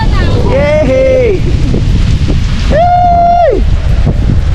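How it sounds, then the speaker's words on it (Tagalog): Strong wind buffets the microphone in a constant loud roar outdoors, while two drawn-out vocal calls rise over it. "Ang lakas ng hangin ay."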